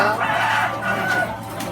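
Many chickens cluck and crow together on a poultry farm where eggs are being harvested, a dense, continuous flock chatter held at a steady close level for the whole stretch, with no talk over it.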